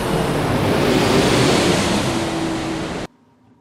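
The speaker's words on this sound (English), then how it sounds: "Niagara Falls, the most famous waterfall in the North American continent" Steady, loud rushing roar of heavy falling water at Niagara Falls fills the scene without a break, then cuts off abruptly, leaving near silence.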